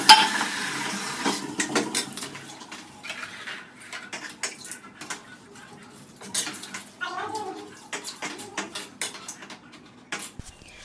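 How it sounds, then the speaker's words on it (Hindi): Dinner plates and a steel thali being set with dishes and cutlery in a home kitchen, with light clinks and scrapes of metal and ceramic scattered irregularly throughout, fairly close and moderately loud, with no talk. "तो उनके लिए थाली लगा देते हैं।"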